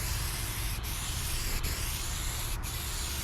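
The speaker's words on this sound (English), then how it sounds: "We're just going to do 2 light coats here" 1K primer sprayed onto a car body panel in light coats: a steady, close hiss that runs without a break, broken only by a few brief dips, and no voices.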